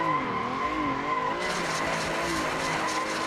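A race car in Assetto Corsa slides through a drift, its engine note wavering up and down while tire squeal and skidding noise build and continue loudly and steadily, no talking.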